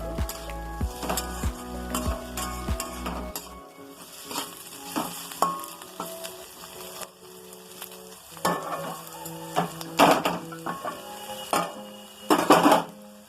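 Green beans and potatoes stir-fried with grated ginger in a pan, with a steady sizzle, a few early metallic taps on the pan, then bursts of loud, close scraping as the spatula mixes.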